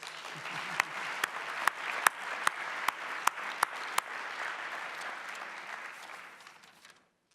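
An audience at a closing ceremony of an international anti-corruption conference applauds steadily, with several sharp individual claps standing out before the clapping fades to silence.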